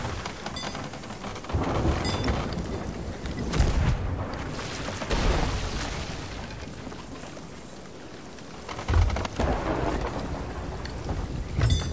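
Steady rain and heavy rolling thunder fill a storm at sea in the video game Sea of Thieves, with several deep booming surges over a continuous wash of rain and no speech.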